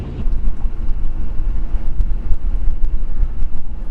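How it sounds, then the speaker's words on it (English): Strong wind buffets a sailboat, a loud low rumbling roar with gusty turbulence that rises and falls constantly and never lets up. "It's just a lot of wind."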